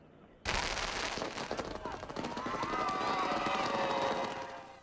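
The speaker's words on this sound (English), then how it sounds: "these freelance fireworks have been going on since before the sun went down" Street fireworks in Hunters Point on the Fourth of July erupt suddenly into a rapid, dense volley of crackling pops and bangs, with whistling rockets and crowd noise mixed in throughout.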